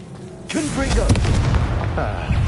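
Spell explosions from the Confringo fire curse in Hogwarts Legacy, a dense burst of booming blasts and crackling impacts in combat, loud and continuous over the whole span with game sounds layered on top.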